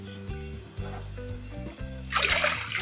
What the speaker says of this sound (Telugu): 2 కప్పుల నీళ్ళు వేసుకోవాలి.